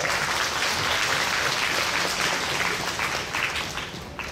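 Applause from an audience welcoming a speaker at a STEM festival, dense sustained clapping that stays strong before tapering slightly toward the end.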